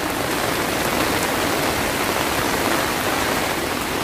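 Heavy rain pours down steadily, a dense, even hiss of drops striking surfaces nearby with no pauses and no voices.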